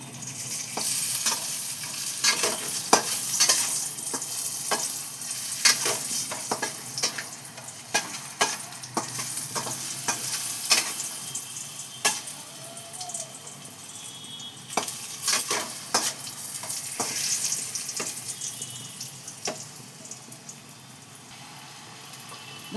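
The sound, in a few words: potatoes frying and being stirred in oil for biryani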